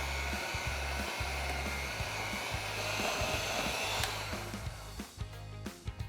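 An electric mixer works butter and confectioner's sugar for buttercream frosting with a steady close whir. It slows and sputters toward the end as the beaters clatter in the bowl. There is no talk.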